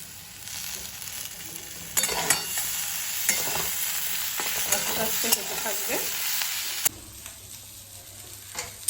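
Cumin paste and ginger paste are slowly stir-fried in a pan, a soft sizzle broken by repeated scraping spatula strokes in an uneven rhythm, close by, with no voices.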